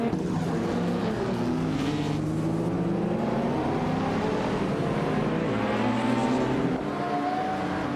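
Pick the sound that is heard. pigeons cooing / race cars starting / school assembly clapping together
race cars starting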